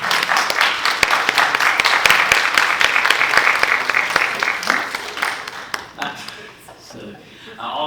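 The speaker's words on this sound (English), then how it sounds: "want to give them a round of applause for their work." Sustained applause from a seated symposium audience honouring a cohort of teacher leaders, dense and steady for several seconds before thinning out into scattered claps near the end.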